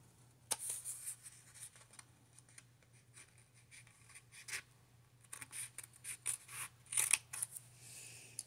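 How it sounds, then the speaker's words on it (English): Scissors snip through a planner sticker sheet in quiet, irregular clusters of short crisp cuts and paper rustles, close and fairly faint over a low steady hum, with no talking. "I really don't want to cut these, but I'm going to."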